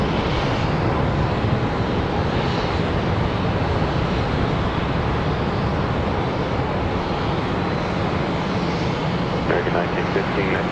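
A Southwest Boeing 737 MAX airliner departs Charlotte, its jet roar steady and loud across the whole span, broadband and constant like a takeoff run heard from nearby.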